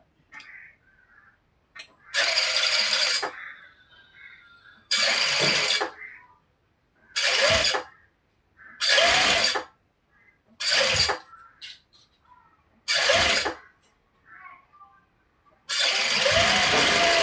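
An electric sewing machine stitching a folded cross piece onto fabric for an A-line top, running in about seven short whirring bursts separated by brief pauses, with no talking.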